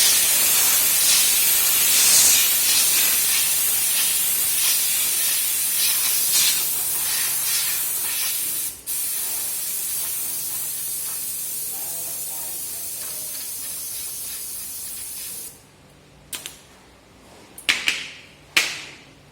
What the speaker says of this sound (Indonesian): dibersihkan dengan cara disemprot menggunakan kompresor